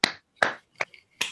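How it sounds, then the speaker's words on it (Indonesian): Four sharp, close hand claps ring out one at a time, evenly spaced with short silent gaps between them. "tepuk tangan dulu guys"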